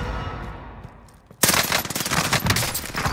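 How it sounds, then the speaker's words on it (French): Video game gunfire aimed at the player in Call of Duty Warzone, quiet at first, then a sudden burst of dense, overlapping automatic shots that carries on loud and unbroken to the end. "Je me fais tirer dessus."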